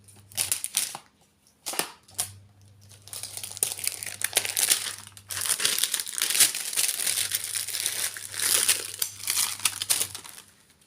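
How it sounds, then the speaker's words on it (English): Tape peeled off and plastic packaging cut and crinkled from around a 24-colour student watercolor palette, close bursts of crackling and tearing with brief pauses between them. "Let's start by taking the tape off and then we'll cut through the plastic layer."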